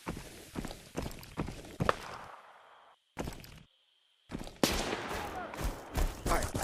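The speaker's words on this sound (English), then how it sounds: "I think he's shooting at me" Gunfire in a shooter video game, pistol only, comes as a string of sharp close shots and footsteps, then a gap of near silence before a denser burst of noisy action.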